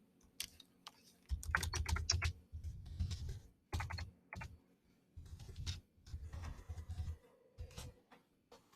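Keys clatter on a computer keyboard as a question is typed into a classroom collaboration board, with quick bursts of close, fairly quiet clicking and short pauses between them.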